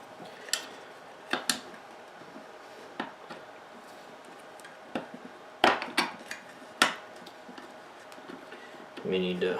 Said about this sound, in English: You may need to pound this in place just a little bit if it doesn't go in initially.